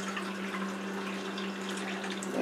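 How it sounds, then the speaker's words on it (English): Water poured into a small bowl, a steady splashing trickle heard close up and continuous, with no voices. "put some water in it and some laundry detergent."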